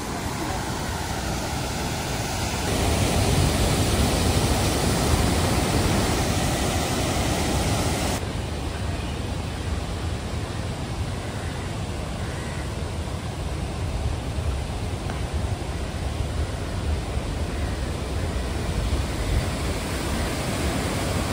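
Strong monsoon floodwater rushes through an open dam gate in Jharkhand, a dense, steady roar that swells louder for the first few seconds before settling into a constant broadband wash of water.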